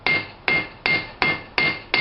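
Hammer blows flatten a hot forged steel hook, six sharp, ringing metallic strikes at an even, steady rhythm, close and loud with brief decays between each.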